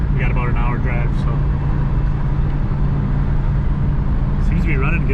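An Audi Coupe cruises on a highway at about 75 mph on cruise control, giving a steady, loud engine and road drone throughout, with brief voice-like sounds near the start and end.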